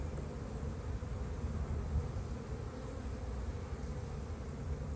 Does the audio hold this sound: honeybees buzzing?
yes